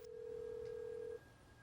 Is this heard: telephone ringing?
yes